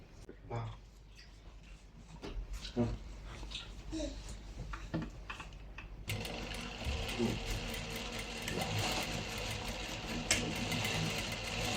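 A sewing machine stitches wide elastic onto a skirt, its motor whirring under a person talking and growing louder and steadier in the second half.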